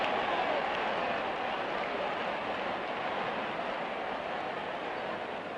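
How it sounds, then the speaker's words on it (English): Crowd at a 1967 rugby league semi-final between St. George and South Sydney, a broad distant roar of many voices on an old broadcast recording, steady and slightly fading. "And the crowd roars."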